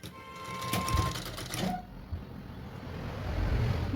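A sewing machine stitching a katori cut blouse runs in a quick, close whirring burst for under two seconds, then stops, leaving a quieter room background.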